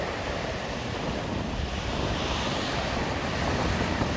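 Ocean surf rolls in at Myrtle Beach under a darkening, stormy sky, making a constant broadband wash of breaking waves mixed with heavy wind buffeting on the microphone, with no voices present.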